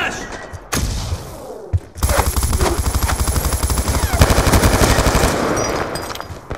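Video game gunfire: near, loud automatic bursts with rapid rattling shots. One sharp shot comes first, then sustained firing runs for several seconds with steady repeated cracks.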